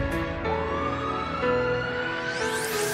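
An ambulance siren wails in an animated Hindi horror cartoon, a sustained tone rising toward the end amid a dense musical soundtrack.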